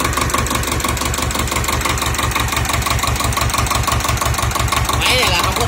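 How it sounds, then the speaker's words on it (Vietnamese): A two-cylinder engine on a used farm machine chugs steadily up close, with an even, rapid knocking beat throughout and a brief voice near the end. "Đây là động cơ hai máy nè."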